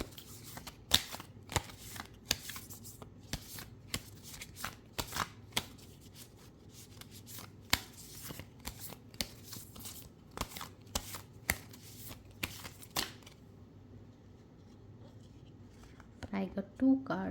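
Tarot cards shuffled by hand, a steady run of crisp flicking and riffling snaps repeating about every second, close and quiet, with soft talk in the background.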